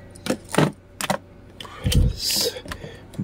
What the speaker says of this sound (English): Let's put the scissors and folding knife away.